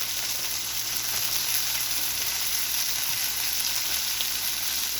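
Cheese melting into a creamy garlic parmesan sauce on a Steelmade USA flat top griddle gives a steady, close, even sizzle throughout, with no talking.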